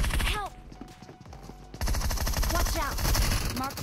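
Gunfire outside a building during a PUBG Mobile match, rapid bursts of shots with a pause, then sustained rattling fire, loud and close, mixed with a clattering, galloping-like rhythm.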